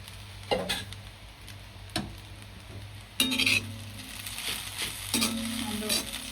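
Chowmein fries in a pan in a home kitchen in Japan, giving a steady close sizzle broken by stirring scrapes and a few light clinks of utensils against the pan, with no talking.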